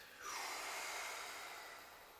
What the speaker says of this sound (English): So breathe out first